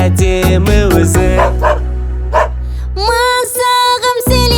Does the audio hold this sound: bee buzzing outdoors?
no